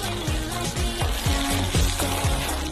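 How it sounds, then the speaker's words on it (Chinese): Sichuan peppercorns and star anise fry in oil heated in a wok, giving a steady crackling sizzle with rhythmic scraping strokes of stirring, close and alone. "来炒花椒和八角"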